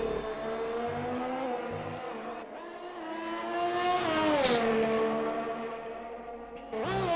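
Ferrari race car in a racing video game at the Azerbaijan circuit, arriving on the line with a loud, rising engine whine that swells toward the middle and falls away, followed by a fresh burst at the end.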